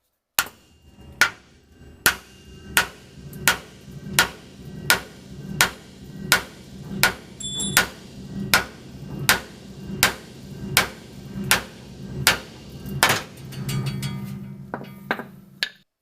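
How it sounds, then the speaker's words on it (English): A hammer pounds a rusty, stuck trailing arm on a 1965 Chevy: about fifteen sharp metallic blows land at a steady pace under the car, each ringing briefly, followed by a shorter scraping shuffle at the end. "I'm about ready to hit this thing with a hammer to see if I can get it out the rest of the way"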